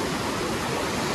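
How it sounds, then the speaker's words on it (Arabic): A small waterfall of cold mountain spring water pours out of the rock near Fethiye, Turkey, a dense, steady close-up rush with no breaks. "شوفوا قدامكم حتى في شلال صغير"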